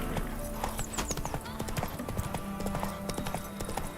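Horse hooves clip-clop steadily in The Witcher 3, a brisk continuous rhythm of close hoofbeats with occasional whinny-like tones and faint speech underneath.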